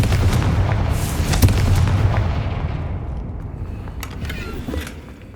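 A Confringo blasting spell from Hogwarts Legacy erupts in a loud, rumbling explosion, with sharp cracks near the start that fade into a long, decaying roar.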